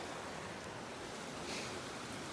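Owl Creek, a mountain creek in a drainage near Mt. Assiniboine, makes a steady broadband rush of flowing water, close by and constant, with a little wind and no talking.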